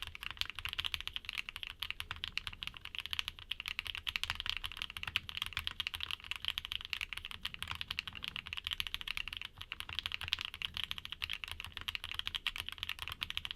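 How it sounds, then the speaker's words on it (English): Dense, continuous typing on Sonja HC switches with ABS Kikobo keycaps fills the scene, a fast, sharp clatter of keystrokes held at an even, moderate level without pause or talk. "Since these caps are made out of ABS, you can expect a sharper sound signature when you pair them with the Sonja HCs."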